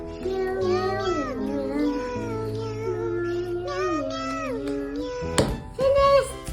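A voice imitates a cat, drawing out a string of sung, wavering meows one after another, close and fairly loud, ending with a brief louder outburst.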